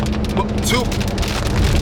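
Heavy rain pours down outdoors beside a parked Lamborghini at a Dunkin Donuts, a dense, constant hiss filling the whole moment, loud and close, with a voice faintly underneath.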